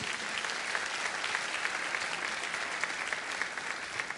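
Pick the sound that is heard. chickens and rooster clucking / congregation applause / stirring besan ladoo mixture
congregation applause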